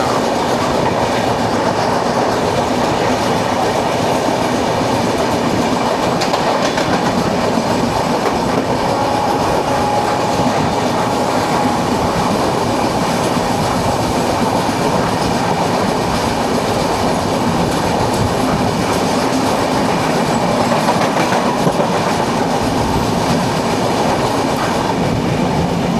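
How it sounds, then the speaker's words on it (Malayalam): Steady rumble and rhythmic clickety-clack of the Netravati Express rolling along the rails, loud and continuous throughout with faint wheel squeal, heard from nearby without any talking. "നേത്രാവതി എക്സ്പ്രസ് ആണ്."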